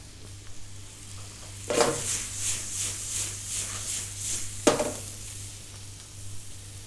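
Food cooks in a hot pan with a soft background sizzle, and two sudden hissing bursts flare up a few seconds apart, each dying back to a low simmer.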